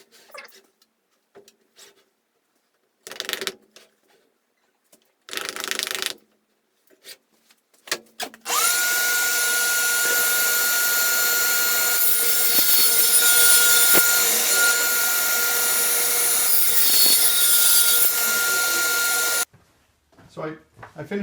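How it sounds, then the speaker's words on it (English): A table saw cutting a bevel line in wood for a leg vise: a loud, sustained high whine of the blade through the board for about ten seconds, preceded by short bursts of handling noise and followed by quiet. "So I finished cutting the bevel line on the table saw."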